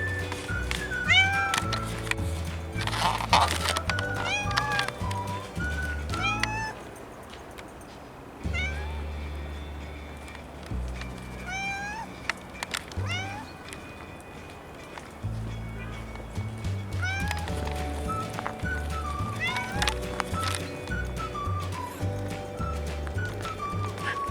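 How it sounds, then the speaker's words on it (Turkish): Repeated cat meows, short rising and falling cries scattered across the clip, sound over loud, steady background music with no break. "Al bir tane daha kedi geliyor şimdi."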